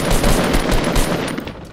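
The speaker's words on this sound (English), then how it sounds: "Let's just shoot randomly at the flesh factory" Rapid automatic gunfire in the battle-royale game Fortnite rattles continuously in a dense burst of close, loud shots, with no talking over it.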